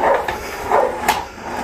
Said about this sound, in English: You hear Frankie in the background barking